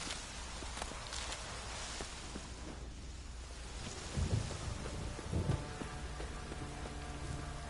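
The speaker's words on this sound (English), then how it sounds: "The storm, damn it." Steady rain pours down in a Witcher 3 thunderstorm, a dense hiss throughout, with low rumbles of thunder and a few footsteps moving through it, no voices.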